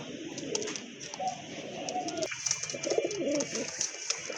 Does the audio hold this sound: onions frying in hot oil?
no